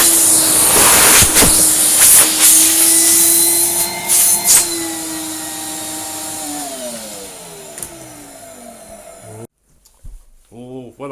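A restored Numatic NV200 vacuum cleaner runs with a loud, steady whine and roar up close, its pitch drifting as it winds down before cutting off, then a voice speaks briefly.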